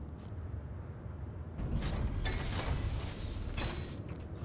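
Mechanical whirring and creaking from an automated welder working in the Space Engineers video game, a steady hum with a brief quiet start before a louder grinding stretch, alone with no talk.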